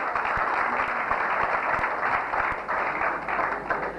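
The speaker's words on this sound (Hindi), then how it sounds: "तालियां हो जाए इनके नाम पे।" A school stand-up comedy audience claps steadily throughout, a dense wash of hands close and fairly loud with a few sharper individual claps standing out.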